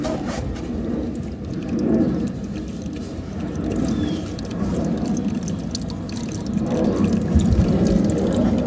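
Water or coolant flows steadily and slowly into a car radiator, a continuous close-up rushing and trickling with no speech.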